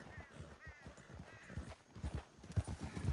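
Galloping horse hooves thud rapidly and rhythmically, growing louder toward the end, with the soundtrack of the video game Red Dead Redemption 2 underneath.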